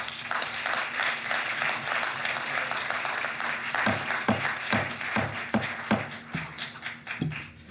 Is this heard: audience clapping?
yes